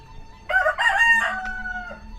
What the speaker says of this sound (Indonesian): Ayam, terus nah ini ayam jantan nih ya, suaranya yang diutamakan.